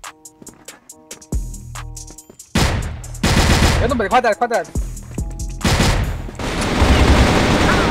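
Gunfire in a first-person shooter game rings out in sharp, loud bursts, some in rapid automatic strings and some as single shots, while players talk excitedly over the action.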